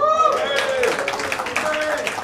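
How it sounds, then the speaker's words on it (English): A comedy-show crowd claps and cheers in response to a prompt about saying Bombay, a short burst of scattered applause with voices mixed in over a steady, moderately loud room wash. "Round of applause if you say Bombay."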